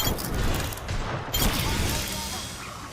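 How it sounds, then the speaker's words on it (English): Gunfire in the video game Apex Legends comes as a dense, loud, continuous fusillade of overlapping shots and booms with almost no gaps. "The enemies are shooting at me."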